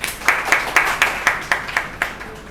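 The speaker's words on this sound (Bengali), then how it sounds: "তো তার জন্য একটা হাততালি চাই" An audience at a Bengali literary gathering gives a short round of evenly spaced claps, about ten sharp hits in steady rhythm, heard clearly without talk.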